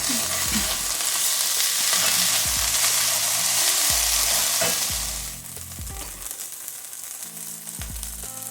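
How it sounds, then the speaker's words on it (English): Minced garlic sizzles loudly in a frying pan while chicken livers and onions cook, with a bright crackling hiss, utensil knocks against the pan, then a quieter simmer after about five seconds. "I'm gonna put half a teaspoon of minced garlic in there"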